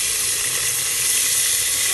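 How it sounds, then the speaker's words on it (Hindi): Tomatoes hitting a hot pan of tahari, a loud, broad sizzling hiss that stays constant and close throughout, with no other sounds over it. "अब इसमें हम डालेंगे टमाटर"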